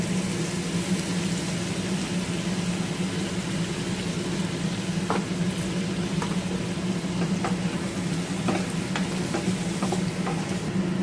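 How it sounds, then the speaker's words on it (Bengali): Rohu fish curry masala with tomato paste sautéing in a pan, a steady close sizzle with scattered clicks of stirring running unbroken throughout. "তাহলে এবার মশলা দিয়ে কষাতে থাকি। এবার আমি টমেটো পেস্ট করে রেখেছিলাম সেটা দিয়ে দেবো।"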